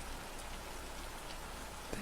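Steady, dense hiss of falling rain in the visual novel Deluge, an even wash of drops with no voices.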